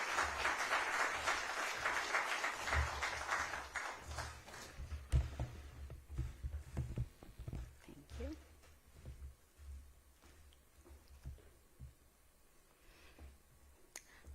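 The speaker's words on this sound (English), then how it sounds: "Jamani, let's clap our hands for Hilda." Conference audience clapping for a speaker, a full round of applause at the start that thins into scattered claps and fades out over the following seconds, with faint voices and room noise afterward.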